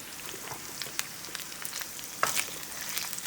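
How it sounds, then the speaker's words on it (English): Mushrooms and onions sauté in a pan for a Cajun chicken and sausage dish, giving a steady close sizzle scattered with sharp crackles and pops, with no talking. "I'm going to saute the mushrooms and onions"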